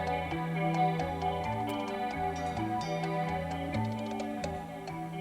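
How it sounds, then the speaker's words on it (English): Light wooden knocks tap out a steady, delicate rhythm within a song, riding over sustained band music at moderate volume with no talking. "That sounds like this light knocking on wood"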